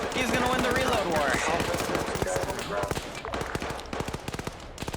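Rapid bursts of automatic gunfire in the Arma 3 video game, in a Black Hawk Down scenario with Humvees, crackle loud and dense throughout, with voices talking over the shooting.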